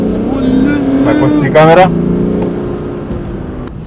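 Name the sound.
engine of a flood-damaged 2014 BMW running and revving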